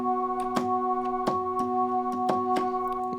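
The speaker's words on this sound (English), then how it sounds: "And so there's that Flow Motion patch" A synth patch from the Waves Flow Motion plugin holds a steady sustained chord, broken by sharp rhythmic plucked or percussive hits at irregular intervals, clear and alone.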